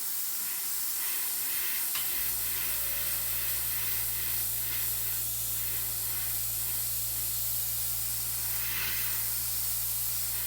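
A continuous airbrush spray hisses steadily alongside the low hum of a compressor running, with no talking.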